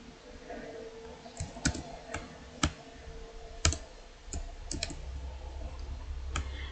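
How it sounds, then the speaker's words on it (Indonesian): Sparse, sharp clicks and taps from a computer keyboard and mouse during a data-entry session in an experimental design practicum, with irregular keystrokes spread over a quiet room background. "kemudian ketik tanda dolar dan pilih redox, copy paste"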